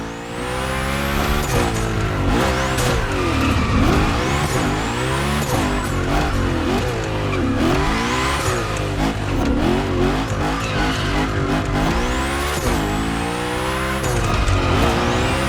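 A car nicknamed the Unicorn drifts through big gymkhana slides in The Crew Motorfest. Loud engine revving rises and falls continuously, with repeated sweeping tire squeals across the whole stretch and no voices.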